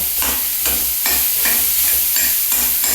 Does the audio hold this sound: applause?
no